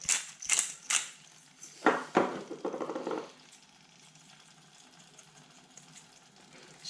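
A pepper mill grinding ground pepper over a mushroom curry, a few quick crunchy ratcheting bursts close up, followed by quiet.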